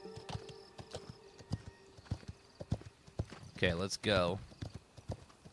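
Summoned horse in The Legend of California trots up with a run of hollow clip-clop hoofbeats, then lets out a short whinny, while someone speaks briefly over it.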